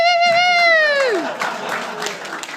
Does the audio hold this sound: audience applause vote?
yes